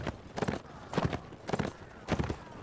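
Horse hooves in Mount & Blade Warband pound in a steady galloping rhythm, four distinct clustered beats of clip-clop, moderately loud and close, with no talk.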